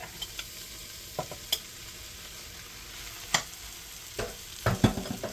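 Seasoned stew beef fries in a pot and is stirred now and then, giving a low background sizzle broken by a few sharp scrapes and knocks, close by, with no talk.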